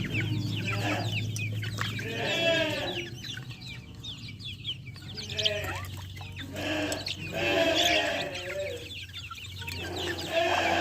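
Several chickens clucking and squawking in bursts, close by, with a low steady hum underneath and no talking.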